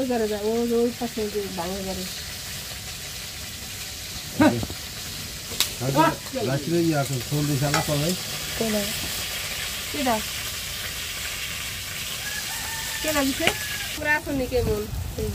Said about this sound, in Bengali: আর এখানে মাংসটা ভাজছে, মাংস ভাজি